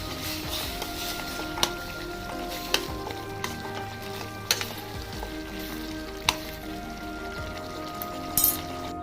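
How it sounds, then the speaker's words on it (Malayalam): Pork curry sizzling and frying in a pan while curry leaves and coriander are stirred in, a steady hiss broken by occasional sharp scrapes and clanks of the spoon. "ഇതെല്ലാം നന്നായിട്ടൊന്ന് ഇളക്കി കൊടുക്കാം"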